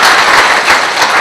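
Loud, dense audience applause welcoming a guest to the stage at a corporate event for Greentouch Projects Limited, a steady close wash of clapping with no talk.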